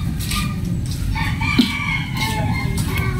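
A rooster crows amid a dense, busy outdoor background in a rural Philippine setting, the call faint and partly masked by surrounding noise, with no talk over it.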